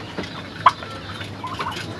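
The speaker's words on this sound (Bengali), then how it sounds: "এইখানে আছে তিনটে টার্কি" Young turkeys, three not-yet-adult birds penned on a small farm, give a brief, faint gobble near the start over a low, steady background hum.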